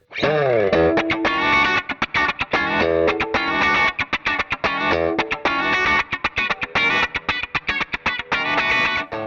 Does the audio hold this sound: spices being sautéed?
no